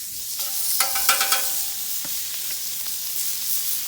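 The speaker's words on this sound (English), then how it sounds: "First time I've ever cooked a lobster on this griddle" Lobster cooking on a Blackstone griddle among other seafood and steak, a steady close sizzle with a brief cluster of scraping and stirring clicks early on, then a softer continuous frying hiss.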